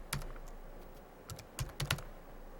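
Computer keyboard keys pressed while entering a publisher name into an online citation form, a few soft, close clicks in short irregular bursts with brief pauses, quiet and without talk.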